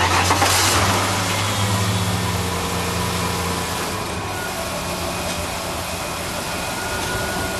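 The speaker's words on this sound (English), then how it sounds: "So I'm going to start the engine." A 1996 Ford Explorer engine cranks and catches, then settles into a steady, fairly loud idle heard up close with no talking.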